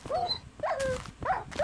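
A Minecraft dog gives three short, whiny barks about half a second apart, close and fairly quiet, with no talking.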